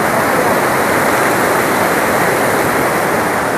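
A waterfall roars in a loud, steady, unbroken wash of rushing water that fills the whole clip, with no voices over it.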